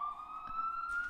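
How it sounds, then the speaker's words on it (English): An ambulance siren passing outside, a steady slowly rising wail that holds through the moment, distant-to-moderate in level behind an indoor setting. "I'm sure you hear the sirens in the background."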